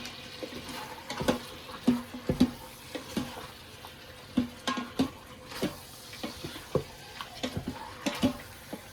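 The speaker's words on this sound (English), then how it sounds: "And give your meat a really good stir." Meat browning in a pan is stirred, with repeated scraping and clacking strokes over a steady low sizzle, close and fairly loud, with no talk.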